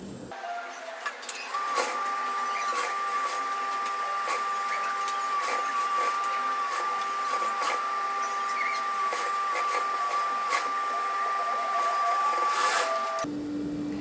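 Sewing machine running steadily for about twelve seconds as it stitches around the neckline of a T-shirt converted from a chudidar; a continuous whirring hum with faint mechanical ticking, close and alone, no talking.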